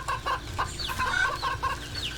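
Chickens in the video game Wytchwood cluck in a quick series of short, choppy calls at close range, with a few rising squawks and no speech over them.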